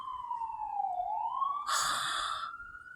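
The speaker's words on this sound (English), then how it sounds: "you heard that siren" A wailing siren glides down then rises in pitch, with a burst of broadband noise midway, loud and steady over a quiet background.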